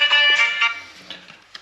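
A phone in a house undergoing electrical consumer unit work rings with a bright electronic tone, loud and close in a short burst that fades, with no talking.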